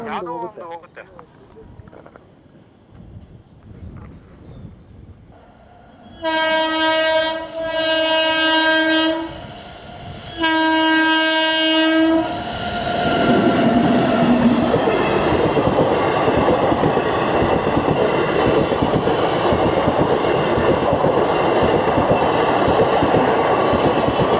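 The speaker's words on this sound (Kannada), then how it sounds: "ಇದು ಯಾವುದೋ ಲೋಕಲ್ ಟ್ರೈನ್ ಬ್ರೋ ಇದು" A local train in the mountains between Bangalore and Goa sounds long horn blasts in several bursts, then rumbles past loudly with steady rolling clatter, while faint talk is heard early on.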